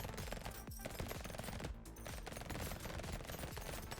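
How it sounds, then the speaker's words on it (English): Rapid SMG gunfire from the video game Brotato, a dense continuous stream of automatic shots with layered game effects, loud and steady throughout. "I am shooting at things off screen."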